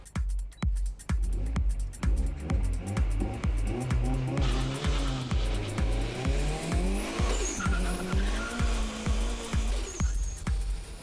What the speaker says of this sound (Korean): 역시 터보 차저가 장착되어 있는 튜닝카를 직접 시승해봤다.